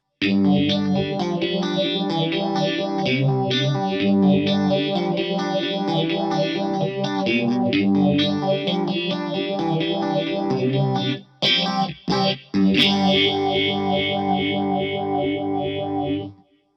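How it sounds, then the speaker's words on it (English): An electric guitar plays sustained, swirling chords through a Keeley Vintage Phaser pedal's sweeping effect, loud and close, with a few sharp stops and picks near the end. "It definitely gives you more of an oscillated sound if you really crank it up"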